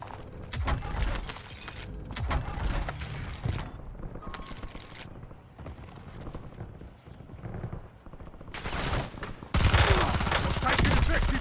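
Rapid automatic gunfire from a video game battle rattles in dense volleys, easing off in the middle and returning loud at the end, with in-game voice callouts underneath.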